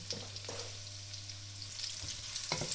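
Onions and garlic fry in a pan with a soft, steady sizzle while a utensil stirs and scrapes a few times, close but quiet, and nobody speaks.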